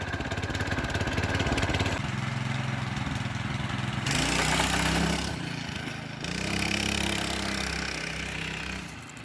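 Small drift kart engine pull-started and running loud and close, a harsh buzzing drone that rises and falls as it revs without a break.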